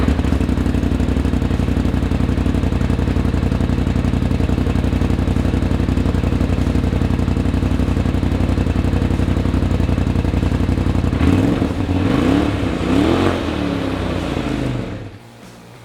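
A Polaris RZR engine fitted with an S&S PowerTune XTO muffler and 1.5 dB reducers idles with a steady, loud rumble, then gives a few short revs before shutting off.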